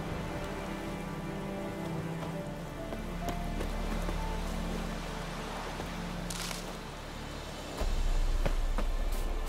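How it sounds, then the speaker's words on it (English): Rain in the video game The Witcher 3, a soft continuous patter on surfaces with low ambient rumble, steady and fairly quiet with a brief louder swell toward the end. "Looks like rain."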